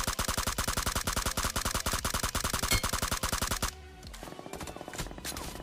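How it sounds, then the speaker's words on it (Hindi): MG3 machine gun fire in PUBG rattles in a rapid, sustained automatic burst of sharp evenly spaced shots, loud and close, then cuts off into a quieter stretch with a few scattered distant shots. "मैं बग्गी वाले बंदे पे शॉट्स ले रहा था, उतने में कोई तीसरा बंदा मेरे को MG3 से काफ़ी ज़्यादा डैमेज करता है"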